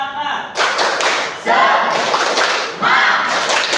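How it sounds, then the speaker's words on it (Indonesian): A classroom of standing students performs a rhythmic tepuk semangat clapping chant: bursts of loud, close group clapping mixed with children's voices, in three dense sections. "Mari kita tepuk semangat."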